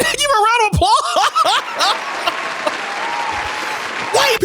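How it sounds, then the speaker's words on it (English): Applause for a guest on a commentary stream breaks out after a burst of speech and laughter, a steady clapping wash lasting a few seconds, with chuckling and voices over it. "give a round of applause"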